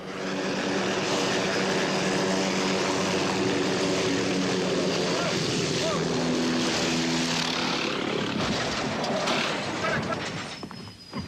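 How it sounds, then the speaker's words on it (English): A malfunctioning helicopter roars loudly and continuously nearby, its rotor and engine droning in a dense, throbbing wash that rises and fluctuates before easing off near the end. "The chopper begins to seriously malfunction."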